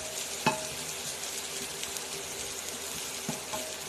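Chopped onion, broccoli and zucchini fry in butter with a soft, even sizzle, broken by a couple of sharp utensil taps against the pan.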